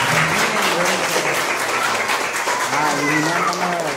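A crowd at a Catholic silver wedding anniversary celebration breaks into loud, sustained applause, many hands clapping together while a voice speaks over the ovation.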